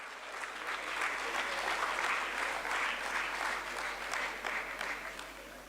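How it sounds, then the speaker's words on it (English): Audience applause at a stock exchange listing ceremony, a dense, sustained wash of clapping from a large crowd that swells and then eases slightly near the end. "Let's give a huge round of applause for Mr."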